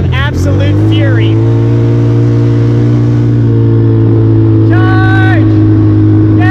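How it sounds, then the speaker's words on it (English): A 90 cc ATV engine drones loud and close with a steady, sustained hum that rises slightly in pitch, while excited voices call out over it. "Got my new ride, guys. 90 cc's of absolute fury."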